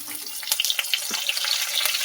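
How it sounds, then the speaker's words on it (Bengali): Potato and pumpkin frying in a pan, giving a steady bright sizzle dotted with small pops and crackles, close and with no talking. "আলুটা দিয়ে ভালো করে ভেজে নেব"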